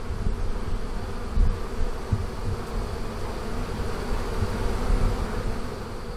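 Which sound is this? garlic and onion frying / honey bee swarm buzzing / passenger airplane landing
honey bee swarm buzzing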